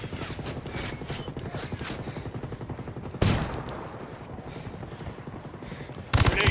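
Video game gunfire rattles in steady rapid bursts throughout, with two louder sharp blasts cutting in partway through and near the end, over a dense background of battle noise.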